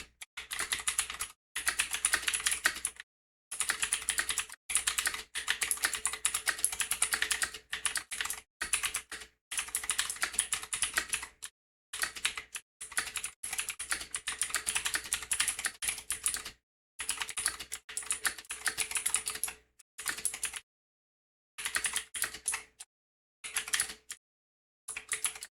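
Fast touch-typing on a computer keyboard during a speed test, a dense run of close, crisp key clicks in bursts separated by short pauses, with no talking.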